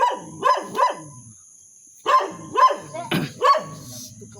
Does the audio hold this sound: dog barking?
yes